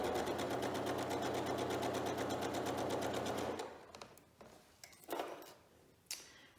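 Sewing machine stitching quilt binding along a diagonal seam, a steady rapid needle rhythm for about three and a half seconds, then stopping, followed by faint fabric handling and small clicks.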